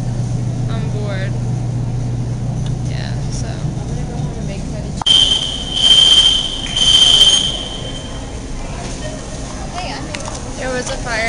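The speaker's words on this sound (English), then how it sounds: "there was just a fire alarm that went off. It was loud." A high, steady electronic fire alarm tone sounds in pulses, loud against a busy indoor background with some talking nearby.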